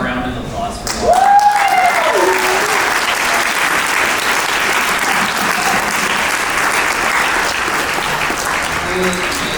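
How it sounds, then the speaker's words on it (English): Symposium audience breaks into steady, full applause for a company CEO, rising sharply after a brief spoken line and continuing evenly at close range until the end. "A round of applause for him."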